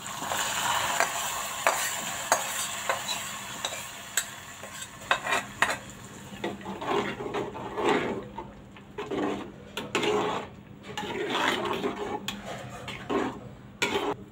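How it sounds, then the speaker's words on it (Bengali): Fried chili, cumin, garlic and onion are tipped into cooking lentils, making a close sizzle with clinks and scrapes of a spoon and pot in an uneven, stop-start rhythm. "এখন আমার পেঁয়াজ রসুন সব ভাজা হয়ে গেছে, এখন আমি ডালে দিয়ে দিলাম।"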